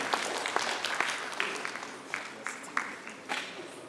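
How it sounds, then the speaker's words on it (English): A workshop audience in a hall claps fairly softly, with scattered individual sharp claps standing out over a thin, fading patter of applause. "I say clap for yourself."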